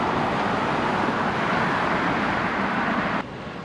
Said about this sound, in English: judging by the amount of traffic here on a Sunday afternoon